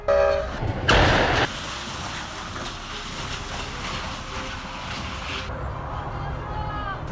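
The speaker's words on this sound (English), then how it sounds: "The sound of metal echoed like thunder as the Amtrak train approached" An Amtrak passenger train approaching with a loud blast at the start, then a steady rumbling and rattling of cars rolling past.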